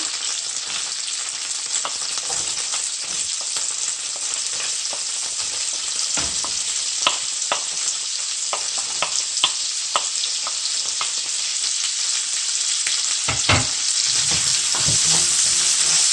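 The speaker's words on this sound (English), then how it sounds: "So in that same oil, I'm going to go in with my onion." Onion frying in hot oil left over from frying prawns for a prawn sauce: a steady, loud sizzle and crackle runs throughout, with occasional stirring scrapes and pops, and no talking.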